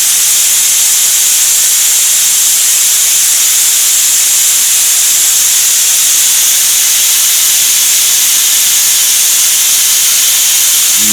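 Compressed air forces thin 2-cycle oil out of a spray nozzle while a 2018 Chevrolet Silverado is being winterized, producing a loud, continuous, steady hiss close to the microphone.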